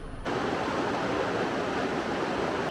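The Murti river in the Dooars of North Bengal rushes past in a dense, steady roar of flowing water, loud and unbroken close by, with no voices.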